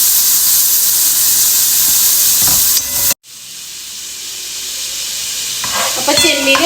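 Prawns and curry leaves frying in hot oil, a loud bright sizzle that cuts out abruptly midway, then a softer hiss that builds back up with some stirring clatter toward the end.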